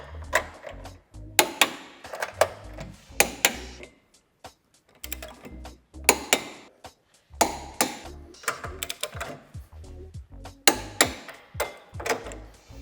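A torque wrench ratchets in bursts of sharp, close clicks while 12 mm bolts on a tow hitch for a 2018–2020 Hyundai Tucson are tightened to 87 Nm, with short pauses between strokes.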